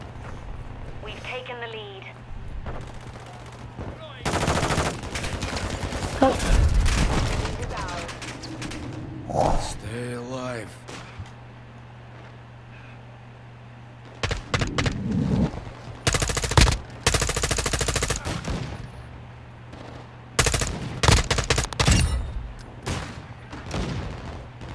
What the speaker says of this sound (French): ça shoot là-bas, man. C'est fou. Wow, il y a des balles de partout